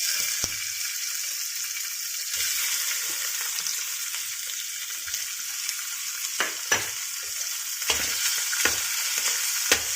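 Prawns frying in a pan for salted-fish fried rice, a steady bright sizzle with occasional sharp utensil taps and scrapes near the end.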